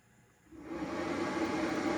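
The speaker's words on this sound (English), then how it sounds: "That is my inverter making noise, not the power station." A power inverter gives a steady electrical whine and hiss that ramps up and holds at a constant drone. No voices.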